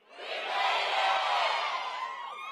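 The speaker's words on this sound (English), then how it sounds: "keep the applause going" Graduates at a college commencement ceremony shout together in a big crowd roar that swells quickly and holds loud and steady, a dense cheer of many voices in a large space.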